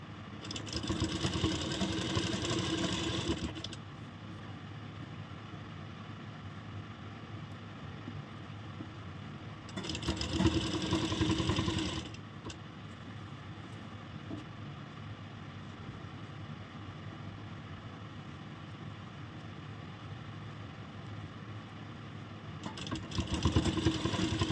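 A sewing machine stitches piping onto a kurti in three bursts of fast, steady whirring mechanical chatter, each lasting a few seconds, with a quieter hum in the gaps; no voices.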